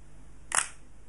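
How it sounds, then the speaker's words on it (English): A single-lens reflex camera fires once: the mirror flips up and the shutter curtains open and close in one quick, sharp mechanical clack against quiet room tone. "what happens when we release the shutter"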